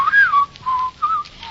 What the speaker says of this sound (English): Shan't whistle.